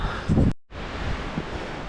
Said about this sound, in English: I think that's maybe the wind